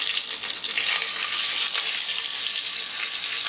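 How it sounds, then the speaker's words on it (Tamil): Onions sautéing in a pan for ghee rice, a steady dense sizzle with faint stirring scrapes, close and continuous with no talking. "வெங்காயத்தை போட்டு ரொம்ப நல்லா வதக்கணும்னு அவசியம் இல்லை, சும்மா லேசாக வதக்கினா போதும்"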